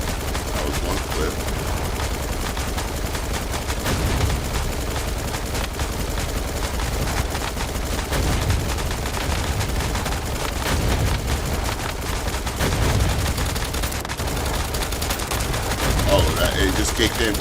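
Rapid, continuous gunfire from a weapon with the Bombardier souvenir effect active in Once Human, loud and dense with a blur of impacts, mixed under game audio and a speaking voice.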